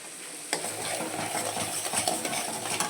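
Spiced masala with turmeric and mustard frying and being stirred in a pan, for a fish curry with mustard and poppy seed: a steady close sizzle with scraping spoon strokes and light utensil clinks, no talking.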